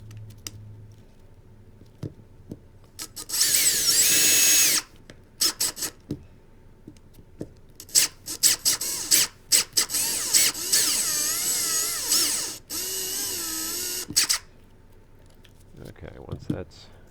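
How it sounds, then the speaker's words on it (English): A bore bit drills a hole for Tesla Model 3 jack pads, with a loud sustained whirring burst, then a series of shorter grinding and cutting runs separated by pauses, close-up, with some talking around it. "we're just going to line up the bore bit and see how deep we have to drill the hole"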